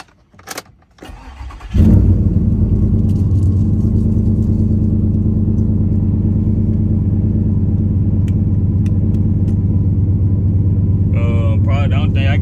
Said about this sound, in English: I'll crank this under for y'all so I can see if she crank up.